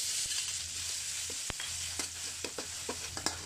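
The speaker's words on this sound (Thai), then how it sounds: "ก็ผัดพริกกระเทียมพอหอมแบบนี" Chili and garlic stir-fried in a few spoonfuls of oil over low heat for a Thai catfish stir-fry, giving a steady soft sizzle with a low hum beneath and scattered sharp clicks and scrapes of a spatula against the pan, no talking.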